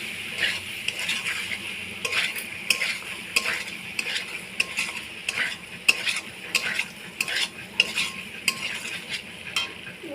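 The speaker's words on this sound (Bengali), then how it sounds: "এখন নাড়াচাড়া করছে ভালো করে" Pasta stirred and fried in a kadai wok, a busy run of spatula scrapes, clinks and taps on metal over a continuous sizzle, close and steady throughout, with no talking.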